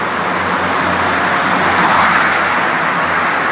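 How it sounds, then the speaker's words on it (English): Steady roar of cars passing through a carved-out road tunnel in Spain, a loud, continuous broadband wash of traffic noise close by with no voices. "when you feel the breeze on the trousers from the cars when they go by"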